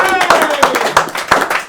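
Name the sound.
audience round of applause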